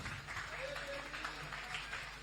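A church congregation applauds loudly in a dense, steady wash of clapping, with voices cheering and murmuring under it.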